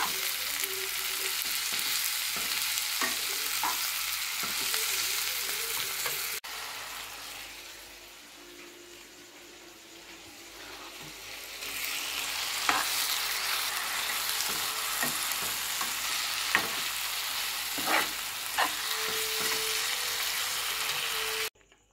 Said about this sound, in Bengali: হলুদ দিয়ে তো ওটা একটুখানি সবজিগুলোতে মিশিয়ে নেব